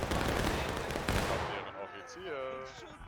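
Musket volleys in a War of Rights battle crack out as a dense, loud roll of overlapping gunfire that fades after about a second and a half, leaving sparse shots under a voice talking.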